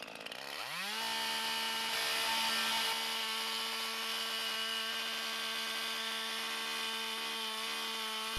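A chainsaw starts up and holds a loud, steady high-revving whine while cleaning up the back cut on a tree during a split level cut, running close and continuous with no talk.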